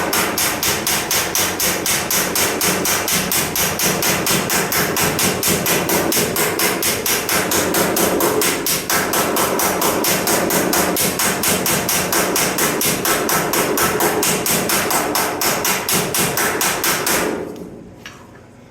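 A hammer pounds sheet metal against a dolly in a fast, steady rhythm of ringing blows, loud and close, continuing without pause before stopping abruptly at the end.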